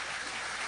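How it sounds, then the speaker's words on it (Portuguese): A church congregation applauding in dense, continuous clapping that fills the room, a brief steady burst with no gaps. "Vamos aplaudir o Senhor."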